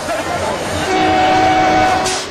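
An overcrowded passenger train engine, with people clinging to both sides and riding the roof on the way to an Amavasya fair, gives a loud, steady rumble with sustained horn-like tones, under a noisy crowd of voices.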